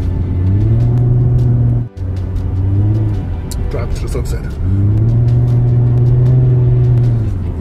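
A 2006 Infiniti FX35 AWD drones with a loud, steady engine and exhaust note while driving, and the pitch holds apart from a brief dip. Someone talks over it near the middle.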